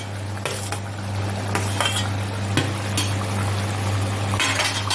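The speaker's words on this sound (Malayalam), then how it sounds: "നന്നായിട്ട് ഇളക്കി കൊടുക്കാം." A lemon and dates pickle is stirred in a pan, with repeated light scrapes and clinks of a spoon over a low steady hum.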